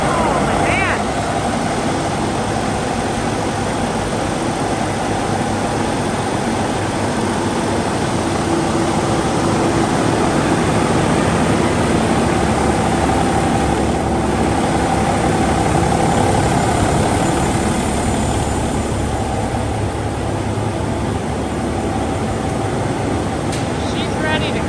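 A Peterbilt 389 truck engine running at idle just after its first start, a loud steady low rumble that holds unchanged throughout.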